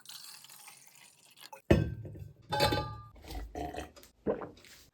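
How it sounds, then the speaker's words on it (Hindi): Gulps of water taken at close range, with a few wet swallowing and liquid sounds in short bursts separated by brief pauses, no talking. "पहले तो पानी पिया जाए"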